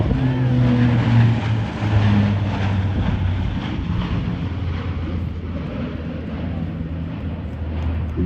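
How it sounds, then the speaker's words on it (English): Fat Albert, the Blue Angels' large transport aircraft, makes a steep-banked parade pass at NAS Pensacola, a loud steady propeller-engine drone with low tonal hum that holds throughout. "This is Fat Albert, and I want you to watch now as the pilot puts this aircraft in a 60-degree angle of bank."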